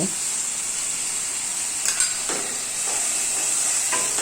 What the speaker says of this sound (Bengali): এবার মশলাটাকে ভালো করে কষাতে হবে যতক্ষণ না পর্যন্ত মশলা থেকে তেল ছাড়ছে